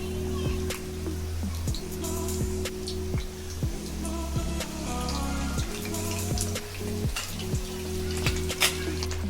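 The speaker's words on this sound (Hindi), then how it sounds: "देख सकते हैं हमारा चिकन रोल फ्राई हो रहा है।" Chicken spring rolls deep frying in hot oil at medium heat, a steady close crackling sizzle that runs throughout, with faint recurring tonal hum in the background.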